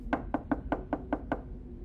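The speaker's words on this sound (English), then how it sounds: "knocked timidly" Timid knocking on a door: seven evenly spaced, moderate raps in a steady rhythm, close by, then a brief pause with nothing more.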